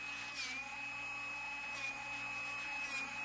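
A Drill Doctor 360X drill bit sharpening machine grinds a 1/8 inch bit, giving a faint, steady motor whine with a thin high tone and brief swells of gritty grinding, continuous throughout.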